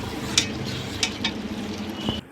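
Chicken curry cooking in a pan at home, a steady close sizzle and fry with a few sharp scrapes and clinks of a spoon stirring against the pan, ending abruptly.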